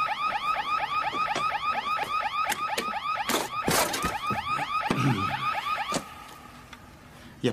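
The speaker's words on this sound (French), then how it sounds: "c'est juste une alarme." A car alarm whoops in a fast repeating electronic warble, loud and steady for about six seconds before it cuts out, with a few sharp knocks and bangs mixed in and no talking.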